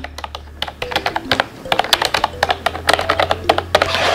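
Typing on a cheap Bluetooth keyboard made for an iPad, with quick light clicky keystrokes in irregular bursts, close and fairly quiet over soft room noise.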